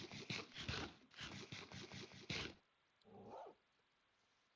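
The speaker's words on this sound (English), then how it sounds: "Bro barked with his whole chest. That was like a pronounced woof." A dog barks in the video game Minecraft: a rapid run of about eight close, loud barks, then a pause, then one softer bark on its own.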